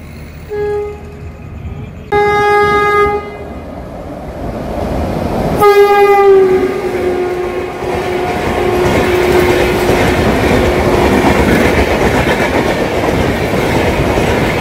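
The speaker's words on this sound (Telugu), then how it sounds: "బెంగళూరు భువనేశ్వర్ ఎక్స్ప్రెస్ అండి. SMBT Bengaluru Bhubaneswar express." Two loud, sustained horn blasts from the SMBT Bengaluru–Bhubaneswar Express arriving at Medapadu station, followed by a steady rumbling roar and rattle of the carriages rolling past close by.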